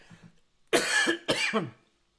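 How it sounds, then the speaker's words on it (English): Two harsh, loud coughs in quick succession, close to the listener, after a brief quiet pause. "Excuse me, I need to cough."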